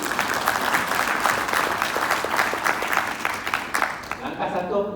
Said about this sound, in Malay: tepukan terbaik